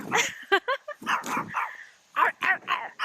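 At a house self-build site in the Philippines, a dog gives a quick run of close barks and yips mixed in with people talking nearby.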